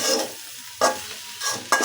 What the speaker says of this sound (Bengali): আর একটু ভাজা ভাজা হবে